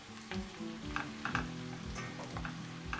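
Chopped onions tumble into a pan of frying carrots, a steady close sizzle with stirring scrapes and light ticks of a utensil against the pan, no voices.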